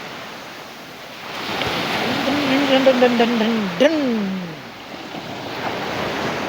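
Steady sea surf and wind rush continuously along a Saudi Arabian coastline, a broad, constant wash of noise, while a voice sings or chants a repeated syllable over it.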